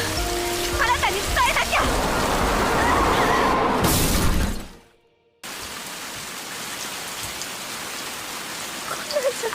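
Heavy rain pours steadily in an anime scene, a dense hiss that swells with music and bright effects, drops out briefly to near silence, then returns as a continuous downpour.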